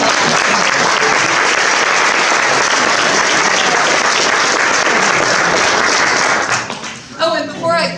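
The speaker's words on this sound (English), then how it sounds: "Let's give them all one more round of applause" A dense, loud round of audience applause for park department volunteers at an honors event in Fayetteville, Arkansas fills the room steadily, then fades near the end as a voice starts speaking.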